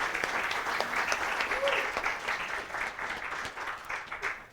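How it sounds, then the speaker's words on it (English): An audience gives a warm round of applause for a speaker, the clapping steady and fairly soft, with a brief voice heard in the crowd, fading slightly toward the end. "let's give her another round of applause"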